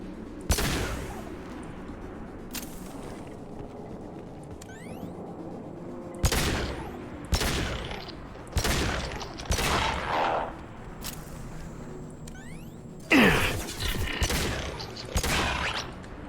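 Gunfire in the video game Mass Effect 2: repeated bursts of shots and booms in separate volleys, with mechanical clanks and whooshes between them, loud and close with no talk.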